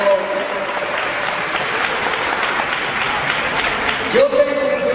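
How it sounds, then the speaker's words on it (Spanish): Applause for a missionary at a Bible debate event: continuous crowd clapping at moderate loudness throughout, with a brief tonal sound and some voice near the end. "un fuerte aplauso para el misionero"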